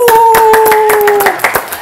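A brief burst of clapping for the winning Team Black after a team-challenge contest, with sharp hand claps under a loud held whooping voice.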